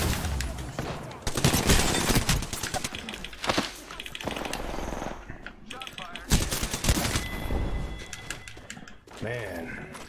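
Rapid bursts of automatic gunfire in Apex Legends, loud and close, firing in clustered volleys with brief gaps between them, while a voice talks over the shooting.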